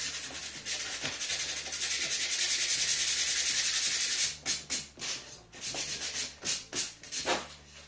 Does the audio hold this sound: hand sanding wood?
yes